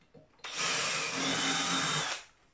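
A power drill whines in one short, steady burst of about two seconds, cleaning out a rivet hole during work on a 2-inch scale Fowler Showman's traction engine, loud and close, starting and stopping abruptly.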